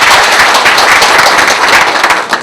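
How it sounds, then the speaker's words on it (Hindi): A crowd at a corporate function gives loud, dense applause right after the Indian national anthem, filling the space up close before tapering off near the end. "जोरदार तालियां।"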